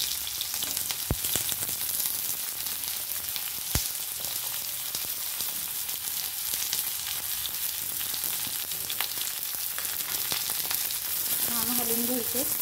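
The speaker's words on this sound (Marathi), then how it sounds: "त्याचबरोबर आपल्याला कांदा पण त्याच्यामध्ये भाजून घ्यायचा चांगला" Onion fries in oil in a pan with a dense, crackling sizzle that holds steady throughout, broken by a couple of sharp knocks, and a voice murmurs briefly near the end.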